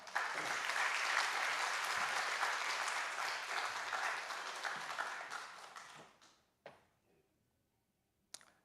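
Sustained applause from a church congregation during a morning service, greeting a speaker who lived through the Korean War, loud and dense for about six seconds before fading, followed by a couple of isolated sharp knocks.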